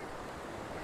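Heavy surf rolls in at Sulok Beach in General Nakar, a dense, loud, continuous roar of strong waves with no voices heard.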